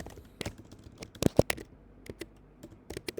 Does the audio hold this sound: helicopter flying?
no